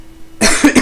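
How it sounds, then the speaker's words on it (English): A single loud, close cough bursts out after a moment of quiet, harsh and breathy with a short second heave. "I hate coughing on video"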